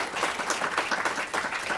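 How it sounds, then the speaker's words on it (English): Brief, dense applause from an audience after a lecture on clinical trials, a continuous patter of many hands at moderate volume. "Can we have a big round of applause?"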